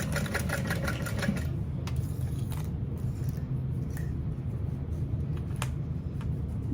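A sewing machine stitches a zipper tape seam at a quarter-inch allowance, a steady close mechanical whir with fast ticking that runs throughout and is broken by a few faint clicks.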